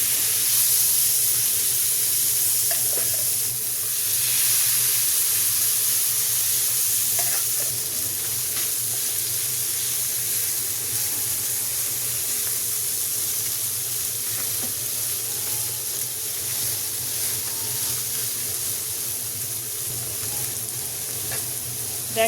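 Kakila fish frying in hot oil in a pan, a steady loud sizzle and hiss that continues evenly throughout with no talking.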